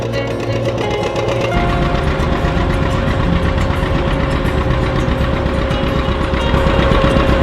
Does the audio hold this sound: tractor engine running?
yes